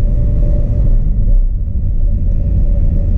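A car engine climbing a hill in third gear, a loud steady low rumble heard from inside the cabin, holding an even drone with no voices.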